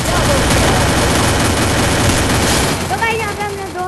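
Dense, loud gunfire from the Counter-Strike video game rattles continuously for nearly three seconds, then fades as a voice speaks over the tail of the shooting.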